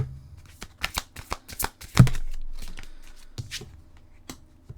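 Tarot cards shuffled to draw an advice card: a rapid series of sharp, crisp card snaps and slaps, then one heavier thump with a long fading ring, followed by a few more soft card flicks.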